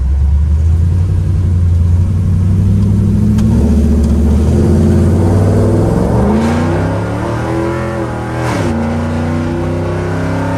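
A deep Ford Coyote V8 engine in a Ford F100 truck rumbles loud and close, revving up and down with rising and falling pitch, no voices.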